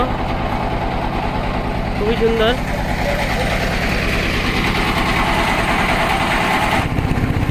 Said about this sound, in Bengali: আমরা এখন ট্রলারে কাপ্তাই লেকে ঘোরাঘুরি করতেছি